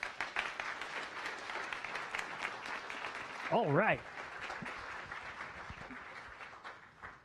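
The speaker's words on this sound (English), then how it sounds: "Let's give her a round of applause." A science café audience applauds after a talk on gravitational waves, a steady wash of clapping from a room full of people that continues throughout, with a short spoken remark over it partway through.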